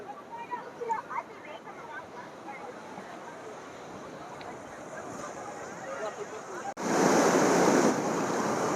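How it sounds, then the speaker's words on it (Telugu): Ocean waves roll in at Chirala beach, where the sea runs high after a depression. Voices and a low wash fill the first part, then a loud, close roar of surf swells up and holds to the end. "సముద్రం అయితే చాలా పోటు మీద ఉంది"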